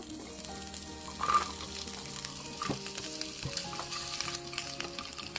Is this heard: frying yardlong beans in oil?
yes